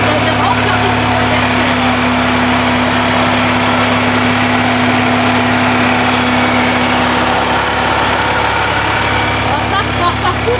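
A BMW 325 with turbo and supercharger runs loudly under way, its engine a steady, dense drone with a constant tonal hum throughout, close and continuous, while people talk inside the car.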